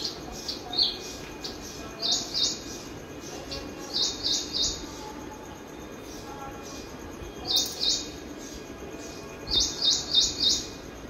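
Small birds and a black bird call outdoors, their bright chirps coming in quick clusters of three or four notes, repeated several times at moderate distance over a steady hiss of background noise.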